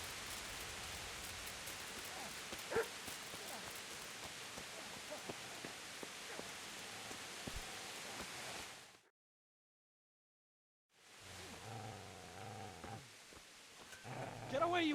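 A dog growls and barks up close amid a steady rain-like hiss; the noise cuts to silence for about two seconds, then the growling resumes with people talking.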